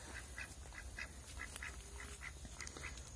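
Pair of crested ducks (marreco pompom) at an ornamental bird pond, quacking faintly in a steady run of short repeated calls at some distance, over constant outdoor background noise.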